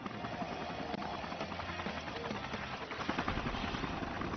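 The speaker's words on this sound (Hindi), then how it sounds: "एक मिनट, मेरा हेलीकॉप्टर अभी लैंड किया है।" Helicopter landing in an animated adventure film, a steady loud rotor thrum and engine drone that continues throughout, slightly building toward the end, with no speech.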